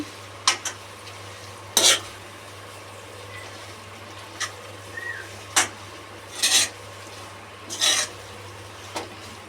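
Noodles being stirred with a utensil while cooking, heard as a handful of short scraping and rubbing strokes scattered over a steady low hum, fairly close and not loud, with no talking.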